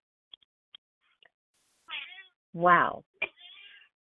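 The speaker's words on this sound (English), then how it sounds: "This is even scaring my cat, if you guys heard her meowing at us." A pet cat meows indoors: a few faint clicks, then two or three close, clear meows in quick succession, with a person saying a single word among them.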